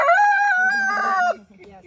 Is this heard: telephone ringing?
no